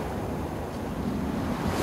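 Stormy Black Sea surf washes onto a beach in Sochi in December, a constant heavy roar of breaking waves mixed with wind buffeting the microphone, with no one speaking.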